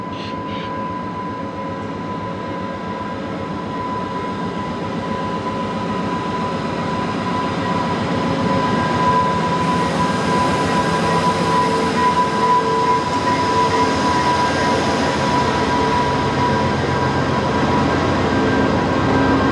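A VIA Rail passenger train, number 87, makes a night station stop, its steady idling engine rumble and tonal hum filling the scene evenly without a break, loud and close.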